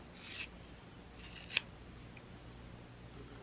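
Scissors cut a sock into strips for a snowman craft, giving faint, close rasping swishes and one sharp snip over a quiet room background.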